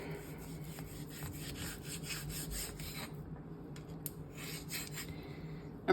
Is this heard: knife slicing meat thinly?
yes